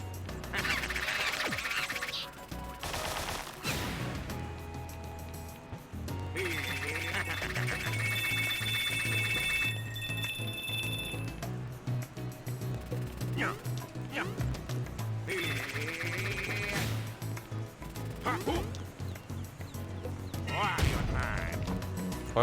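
Cartoonish bird quacks and honks from the video game Wario Land: Shake It!, repeated bursts over game music, with a player talking at times.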